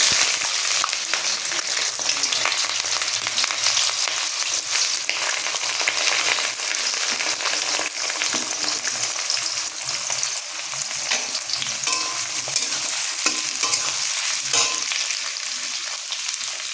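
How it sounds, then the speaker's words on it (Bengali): Onions frying in hot oil for a chicken curry give off a loud, continuous crackling sizzle with bright hiss, stirred now and then, with no talking. "এবারে আমি পেঁয়াজ দিয়ে দেব।"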